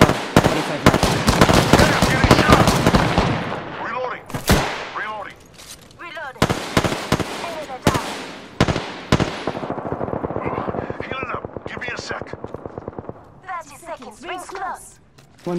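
Gunfire in the video game Apex Legends, loud rapid automatic bursts and single shots in clusters with short gaps, a stretch of fast rattling fire later on, and brief game voice lines in between.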